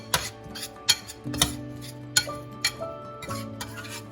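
Meatloaf filling with Worcestershire sauce and garlic being stirred and sautéed together in a pan off the heat, giving scattered utensil clinks and scrapes against metal at an irregular rhythm over a quiet background.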